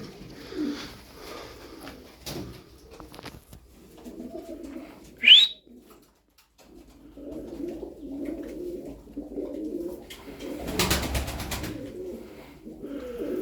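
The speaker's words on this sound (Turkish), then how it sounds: "Abiler güzel kuşlar, sağlıklılar." Soft, low cooing from pigeons repeats in gentle phrases, with a brief sharp chirp partway through and some shuffling and rustling nearby.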